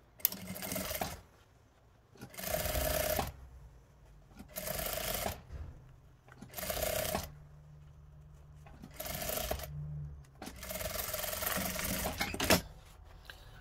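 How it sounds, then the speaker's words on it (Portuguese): Sewing machine with a presser foot stitching a seam on a denim jeans leg, running in six bursts of roughly one to two seconds each, separated by short quiet pauses, close and fairly loud with no talking. "E vou passar a costura com um pé de máquina."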